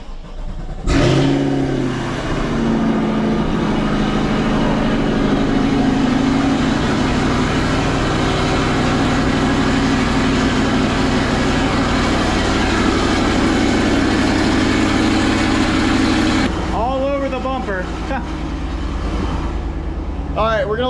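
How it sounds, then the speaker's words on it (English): A C8 Corvette engine cranks and fires, then settles into a loud, steady rumbling idle as it warms up, with a brief change in tone near the end. "just start the car, let it warm up for a little bit"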